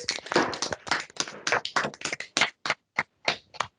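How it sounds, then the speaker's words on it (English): Handful of online meeting participants clapping with microphones unmuted, sparse uneven claps from several people, close and distinct, gradually thinning out. "come off mute again, do the round of applause thing"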